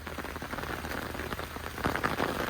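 Heavy rain pours down at a campsite during a storm, drumming steadily on surfaces and umbrellas. The dense, close hiss of the downpour swells slightly louder near the end, with no voices.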